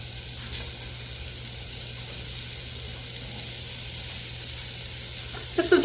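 Crumbled sausage sizzles in a pan for a pizza casserole, a steady even hiss throughout, close and moderately loud, with a brief clatter near the end.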